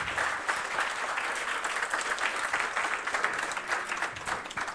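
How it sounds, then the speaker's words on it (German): Audience applause at a youth hackathon's closing presentation in Rostock, a dense even clapping from a crowd, moderately loud and sustained without any talk. "Und wir Applaus nochmal für die erste Gruppe hier,"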